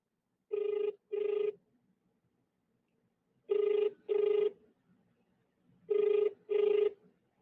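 A telephone rings unanswered in three evenly spaced double-ring pairs, each pair a clear electronic trill separated by silence, close and moderately loud.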